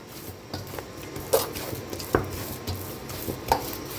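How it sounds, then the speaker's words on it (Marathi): Soft, water-moistened dough for puran poli is kneaded by hand, giving irregular wet squishes and a few sharper slaps and thumps, quiet and close with no talking. "तर आता आपलं पीठ बघूया पुन्हा. पीठला का नाही आणि एकदा मळून घेऊया."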